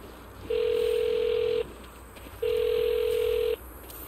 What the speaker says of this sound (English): Let's call the number on all those billboards and find out.